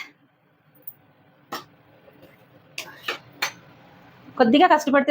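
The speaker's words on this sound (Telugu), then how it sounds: "ఇలా కలపాలండి, అడుగంటిపోకుండా కలుపుకోవాలంతే." A pot of vadiyalu batter is stirred, with scattered metallic clinks and scrapes of the spoon against the vessel, followed by a voice speaking near the end.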